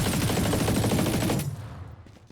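Machine gun in Valorant firing a loud, rapid sustained burst that stops abruptly after about a second and a half, leaving a fading tail.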